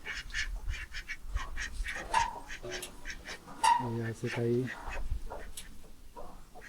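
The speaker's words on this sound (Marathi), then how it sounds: "प्लस बदक पण आहेत" Ducks quack in a short burst of several calls, fairly close, at a village cow shelter, while a person speaks briefly and other birds chirp in the background.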